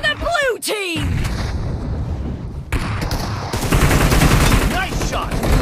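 Gunfire in PUBG Mobile during team deathmatch with an M762 rifle: dense rapid automatic bursts and booming shots, loud and close, mixed with whooshing game effects and a short game announcer voice.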